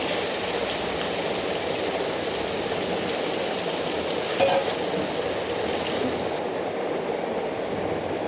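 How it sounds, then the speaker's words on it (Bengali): Hilsa fish coated with salt and turmeric frying in hot oil, a close, steady crackling sizzle that continues without pause and with no voices. "এই যে মাছগুলো লবণ হলুদ মাখিয়ে মাছগুলো আগে ভেজে নেবো"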